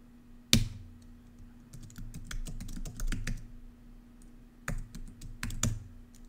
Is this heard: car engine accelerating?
no